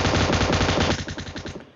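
An M249 machine gun in PUBG Mobile Lite unloads a sustained, loud burst of rapid rattling fire, the shots becoming more distinct and spaced as the stream tapers off at the end.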